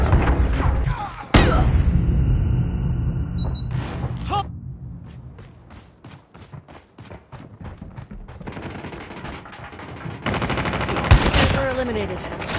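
Shotgun blasts and bursts of automatic gunfire ring out in a COD Mobile multiplayer match, loud sharp shots spaced across the scene with rapid volleys toward the end, alongside in-game voice callouts.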